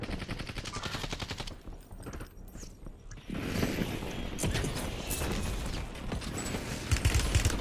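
Gunfire in the battle royale game Call of Duty Warzone: rapid automatic bursts and scattered shots, dense and sharp, with a brief lull before firing resumes, no talk.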